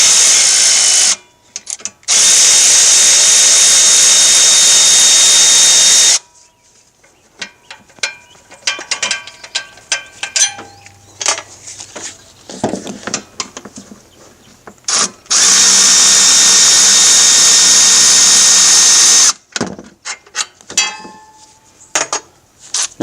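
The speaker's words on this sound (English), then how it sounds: "I have my Milwaukee battery powered ratchet here to just speed things up" Milwaukee battery-powered ratchet removing alternator bolts on a Chevy Silverado: two long, loud, steady motor whirs, with clanking, clicking tool and metal handling noises between them.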